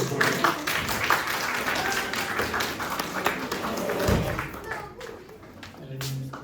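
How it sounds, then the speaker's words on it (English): Audience clapping for a school student receiving third prize at a prize-giving ceremony, a dense patter of hands under voices and a thump midway, tapering off toward the end. "Please give him a big round of applause."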